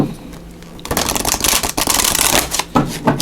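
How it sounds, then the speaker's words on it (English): Tarot cards are shuffled close up: after a quiet start, a burst of rapid riffling and flapping card sounds, pausing briefly before a final riffle. "we're just going to give you a good shuffle one more time."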